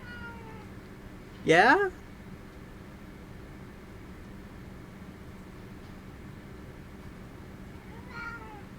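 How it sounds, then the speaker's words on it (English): A house cat gives one short, soft, plaintive meow, close and clear against a quiet hum, followed much later by a fainter second mew; a person briefly speaks. "giving the most like soft, pitiful meows I think I've ever heard him do"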